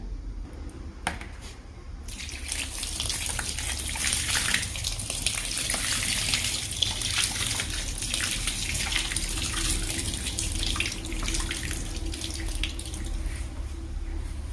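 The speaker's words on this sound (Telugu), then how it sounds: "ఇప్పుడు వాటర్ పోసేసుకుందాం" After a short quiet start, water pours steadily onto soil around a newly planted betel vine nearby, a continuous close splashing hiss that carries on to the end.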